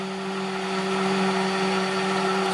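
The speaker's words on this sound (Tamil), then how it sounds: "இந்த க்ரீம் அடிக்க அடிக்க அப்படியே நல்ல நுர மாதிரி வருது பாருங்க" An electric mixer whirs steadily while beating a homemade moisturizing face cream, a constant close motor hum with no pauses.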